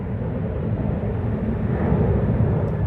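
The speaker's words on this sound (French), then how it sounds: "Je sais pas si on entend l'avion," An airplane flies near an airport, a steady broad low rumble that swells slightly toward the end, continuous and moderately loud with no voices.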